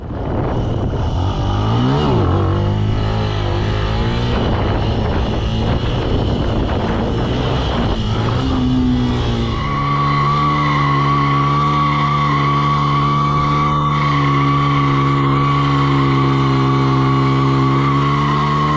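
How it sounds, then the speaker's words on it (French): A Benelli BN 125 motorcycle revs hard on an empty lot, its engine note sweeping up through gear changes and then settling into a steady high drone, loud and close, with no talk over it. "pour pouvoir vérifier si la Benelli lève la roue avant"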